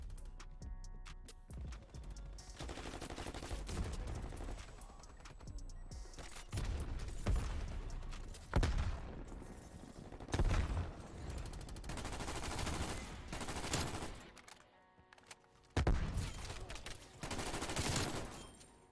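Rapid automatic gunfire in Call of Duty Cold War, with repeated bursts and sustained strings of shots alternating with short pauses, loud and close.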